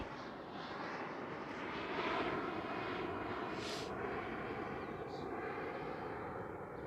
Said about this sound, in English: I'm gonna let this plane go by.